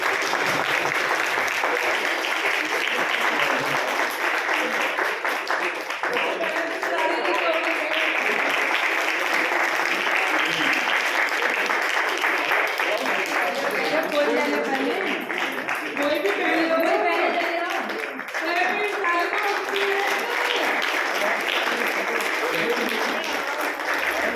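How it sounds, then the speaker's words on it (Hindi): Sustained applause from an audience welcoming a guest at a religious discourse, dense and loud throughout, with voices faintly mixed in beneath the clapping. "तो सभी तालियों के साथ इनका स्वागत करेंगे"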